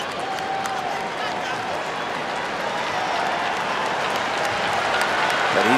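A tennis crowd at the 2022 US Open semifinal between Carlos Alcaraz and Frances Tiafoe applauding and cheering in a large stadium, a steady dense roar of clapping that swells slightly toward the end, with commentary voices underneath.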